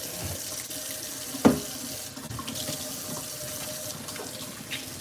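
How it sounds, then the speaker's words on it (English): Tap water runs steadily into a kitchen sink for washing a few dishes, a constant hiss with one brief clatter near the start, heard alone with no talking. "So I have a few dishes I'm gonna wash."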